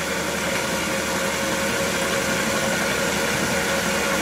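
Wood lathe spinning an oak vase blank at about 600 RPM, giving a steady, loud, continuous whirring hum with no voices over it.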